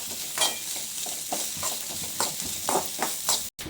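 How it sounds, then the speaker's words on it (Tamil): Grated coconut roasts in a pan for coconut milk payasam, with repeated scraping stir strokes over a soft, steady sizzle, close up and fairly quiet. "எடுத்து வச்சிருக்க தேங்காய் துருவல்களை இதில் போட்டு பொன்னிறம் ஆகும் வரை நல்லா வறுத்துக்கலாம்."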